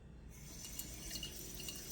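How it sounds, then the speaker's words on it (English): Water runs into a cooking pot for farro, a soft, steady splashing pour with a few brighter drips over a quiet kitchen background. "I'm just going to add some water."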